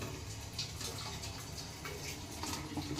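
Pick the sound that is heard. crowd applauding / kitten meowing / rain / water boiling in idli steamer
water boiling in idli steamer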